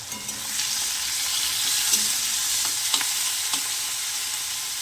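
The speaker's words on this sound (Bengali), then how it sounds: "পেঁয়াজটা যতক্ষণে ভাজা হবে ততক্ষণেই এই টমেটোটাও গলে যাবে" Onion and tomato frying together in a pan, salted, giving a loud, continuous close-up sizzle with a few faint stirring taps on top, no voices.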